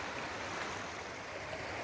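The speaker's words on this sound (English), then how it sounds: "This looks like my next river crossing, or creek, or whatever it is." A creek at a trail river crossing along the Pacific Crest Trail near White Pass, a steady, soft rush of flowing water with no voices.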